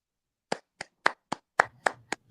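Sparse applause played as a tribute, seven or eight separate sharp claps spaced about a third of a second apart, close and clear with no voices.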